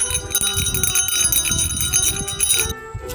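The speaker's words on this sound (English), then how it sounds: "A bear bell." A small bear bell shaken by hand, ringing continuously with bright, rapid jingling strikes that stop abruptly near the end, close and loud with no talk.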